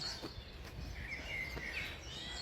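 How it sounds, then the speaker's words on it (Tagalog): Faint chirps from several birds come from bare winter trees, with a few short, high calls over a low outdoor background. "Daming ibon."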